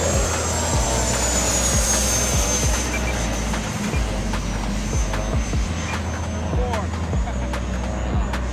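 An FMS Avanti 90mm RC model sport jet flies past at an RC event, its ducted-fan whine rising and falling while crowd and field sounds carry underneath.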